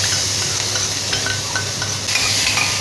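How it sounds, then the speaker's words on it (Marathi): Ginger and green chilli paste frying in a hot tempering of cumin, asafoetida and curry leaves, a steady close sizzle with light stirring clinks from a spoon against the pan. "ते झालं की आपण आलं आणि हिरवी मिरचीची पेस्ट घालूया त्याच्यामध्ये."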